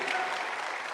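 A church congregation claps in a brief, dense burst of applause that stays steady and fairly loud throughout.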